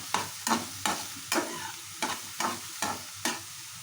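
Chicken fries dry with spices, green chilies and ginger garlic paste, stirred in eight regular scraping strokes over a low steady sizzle, close by and without talk.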